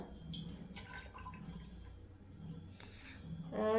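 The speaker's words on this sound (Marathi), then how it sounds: "हा चिक ह्याच्यात ओतून घेते पहिल्यांदा" Colostrum (chik) is poured into a pressure-cooker container for kharvas: a faint, soft trickle and scattered drips close by, ending in a brief louder splash.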